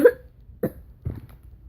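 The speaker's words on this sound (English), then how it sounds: "Sorry if I'm coughing too much in this video." A person gives three short, separate coughs, close and fairly loud, with brief quiet gaps between them and no talking.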